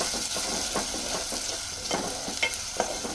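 Sliced onions and curry leaves sizzle in hot oil as they brown, with repeated scraping stirs against the pan at an even pace and a steady fry hiss underneath.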